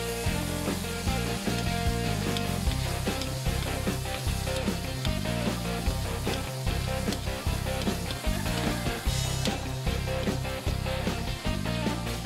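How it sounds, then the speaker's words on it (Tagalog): Tomatoes sautéed in a pan for pakbet, a dense continuous sizzle with rhythmic stirring scrapes throughout, close and loud. "Pwede na natin idagdag ang ating kamatis. Haluin lang hanggang sa maluto ito."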